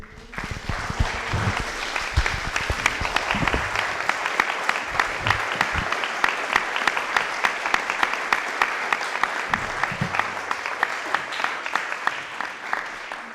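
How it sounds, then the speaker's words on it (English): An audience at a candidates' night forum applauds, dense steady clapping building over the first seconds and sustained for around ten seconds, with faint voices briefly under it. "Round of applause for"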